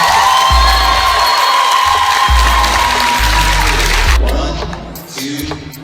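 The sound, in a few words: convention audience applauding and cheering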